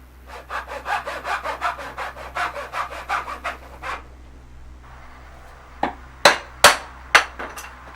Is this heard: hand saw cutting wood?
yes